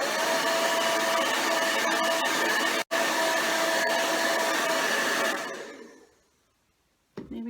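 A hair dryer blows steadily and loudly to dry paint on a plaster heart, with a brief dropout midway before it winds down and cuts off, then a short clatter at the end.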